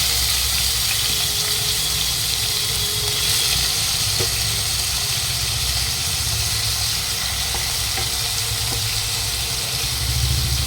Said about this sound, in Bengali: কড়াই গরম হয়ে গেছে, একটা চিংড়ি মাছ দিয়ে দেখি।